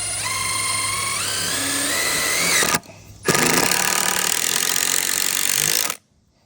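A power drill whirs steadily, its pitch climbing as it drives screws into leftover material while building a shed, stopping briefly, then running again for a few seconds before cutting off.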